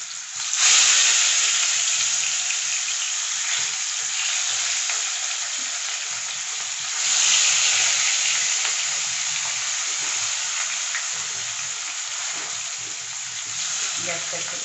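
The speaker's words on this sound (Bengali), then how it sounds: "এদিকে আমার তেলটা গরম হয়ে গেছে, এবার আমি একটা একটা করে মাছটা নিতে" Rohu or katla fish pieces frying in hot oil, a loud, dense sizzle that flares up twice as pieces go in, with a voice speaking faintly underneath.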